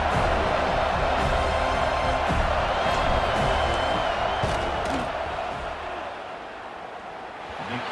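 Loud, dense stadium crowd roar at a football game during a field goal try, a sustained wash of cheering and shouting that eases slightly toward the end.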